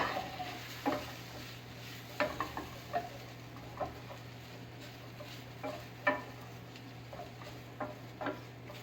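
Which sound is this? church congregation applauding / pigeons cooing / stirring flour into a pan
stirring flour into a pan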